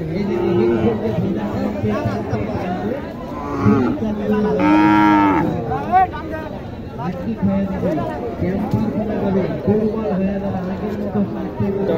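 At a village cattle market selling Sahiwal and Gir calves, a close, drawn-out moo rises loudly over a busy crowd, with people talking and chattering throughout.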